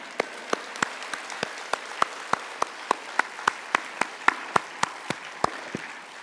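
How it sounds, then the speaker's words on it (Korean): A congregation at a Catholic Holy Spirit convention claps in unison, crisp single claps landing at an even, brisk beat, about three per second, with a quiet roomy background between them. "박수"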